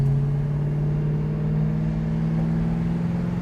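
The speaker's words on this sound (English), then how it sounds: "Good thing we got some power under the hood of this Duster so we can merge in this traffic." Steady, close engine drone from a 1972 Plymouth Duster accelerating in traffic, a low rumbling growl that holds a constant note and builds slightly, heard from inside the car without talk.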